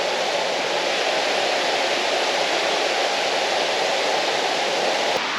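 Haynes Falls on the Fiery Gizzard Trail roars in a continuous, even rush of falling water, loud and near, holding steady throughout with no voices over it.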